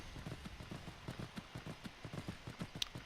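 A horse's hooves clip-clop at a steady riding pace in the Skyrim video game, a rhythmic, moderately loud run of beats with faint ambient noise and no talk.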